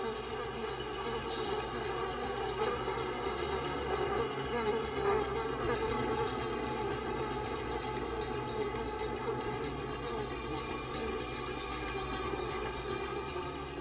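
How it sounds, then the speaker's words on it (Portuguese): A honeybee swarm gathers and settles to regroup after leaving its old hive, a dense steady buzzing hum that fills the whole stretch at constant loudness with no pauses. "o enxame pousa para se reagrupar e determinar o resto do plano"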